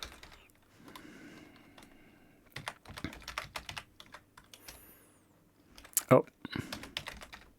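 Computer keyboard typing while entering an email and password during Melodyne installation on Ubuntu, irregular bursts of close key clicks with pauses, plus a brief spoken word.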